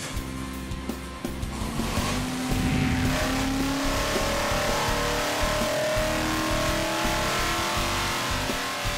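A Cheetah car with a Chevy LSX 454 crate engine and Hillborn stack injection growls loudly and steadily, swelling after a quieter start into a sustained, rough engine roar.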